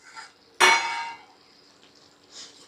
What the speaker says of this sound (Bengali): একবার আমি নেড়ে দেখে নেব।